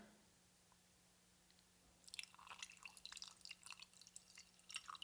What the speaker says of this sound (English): I've got this little decanter that Nat got me a while ago